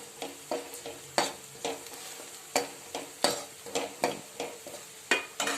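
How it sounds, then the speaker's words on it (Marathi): Turmeric and asafoetida sautéed in a pan with chilli powder and black masala, heard as a low sizzle under repeated scraping strokes of a spoon, close and fairly quiet, with no voices. "थोडीशी हळद टाकते थोडा हिंग टाकते छान परतून घेतो"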